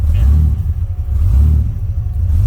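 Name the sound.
car engine revving through straight exhaust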